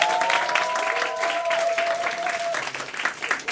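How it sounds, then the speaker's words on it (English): A school poetry slam audience gives a round of applause for a teen librarian, steady clapping throughout with a faint sustained tone over the first part. "Warm round of applause for Jennifer Dunlop"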